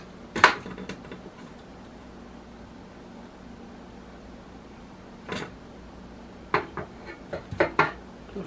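Small air-fried chicken wings being served onto a plate, a few sharp clinks and scrapes of utensils against dishware, sparse and close, separated by long quiet stretches with a low room hum.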